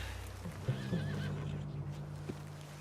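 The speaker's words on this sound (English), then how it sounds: "What's wrong with this horse?" A horse in the Red Dead Redemption 2 video game lets out a loud, close whinny over a steady low drone, with a few hoof clops around it.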